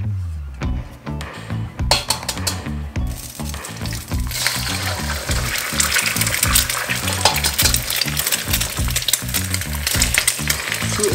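Two eggs sizzle and crackle steadily in hot olive oil in a pan while chicken fried rice is being made, a dense continuous frying hiss that stays loud throughout with no voices.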